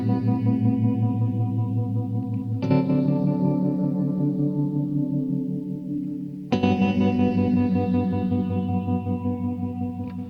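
Preset sample from a Source Audio Encounter effects pedal: two loud, sustained electric guitar chords ring out with chorus-like shimmer, grit and reverb, each slowly decaying before the next strike, with no talking.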